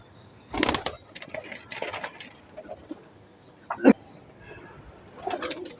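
Pigeons coo in short, throaty bursts close by, several calls spread across a few seconds with faint rustles and small knocks between them; no one speaks.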